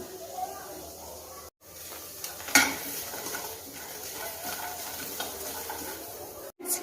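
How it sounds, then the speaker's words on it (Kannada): Onion, ginger and garlic frying in oil in a pan, a steady hiss and sizzle with a few utensil scrapes and clinks throughout, one sharper clatter near the middle; a voice talks faintly under it. "ಒಂದು ಪ್ಯಾನ್ನಲ್ಲಿ ನಾನೀಗ ಒಂದು ಈರುಳ್ಳಿ ಮತ್ತು ಶುಂಠಿ ಬೆಳ್ಳುಳ್ಳಿ ಹಾಕಿ ಹುರ್ಕೊಂಡು"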